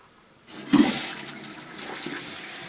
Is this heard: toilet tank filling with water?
yes